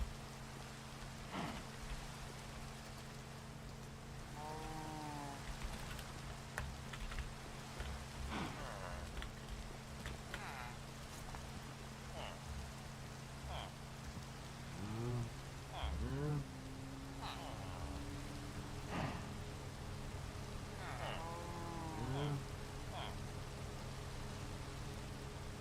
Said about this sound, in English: Can it stop raining?